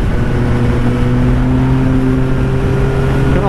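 A Yamaha MT-09 motorcycle engine pulls hard while riding, a loud, continuous, close roar with steady harmonic drone and no speech over it.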